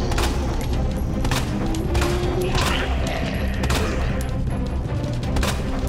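Rapid handgun fire in the Resident Evil 2 zombie shooter, a dense string of sharp shots and booms over a constant game background, loud and close.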